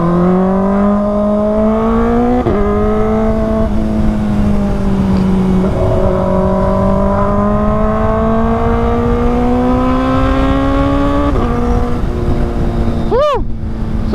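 A Kawasaki ZX-4RR sports bike on a long road ride, its engine note loud and close, climbing in pitch through repeated revs, with drops at each gear change and a brief sharp sweep near the end.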